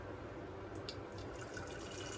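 Colored cooking water from a vegetable medley poured out of a pot, a soft, steady trickling and splashing stream that stays faint and even throughout, with no voices.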